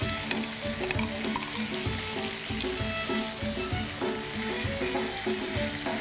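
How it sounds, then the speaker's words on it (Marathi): Green masala paste hitting hot oil in a pan while making Bombay duck (bombil) curry, a steady dense sizzle and crackle running throughout at close range, with no talking. "याच वेळेस आपण जे आपलं हिरवं वाटण काढलं होतं ते आपण यामध्ये घालूया"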